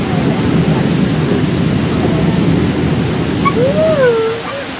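Steady broadband rush of waterfalls pouring down the hillsides at Milford Sound, New Zealand, a loud continuous roar filling the scene, with a few faint bird whistles rising near the end.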